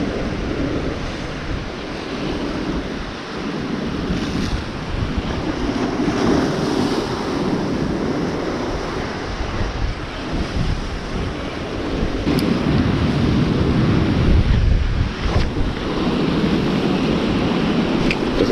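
Strong coastal wind roars and buffets the microphone over heavy sea swell breaking on the shore, a steady loud rumble with surges of surf throughout and no voices.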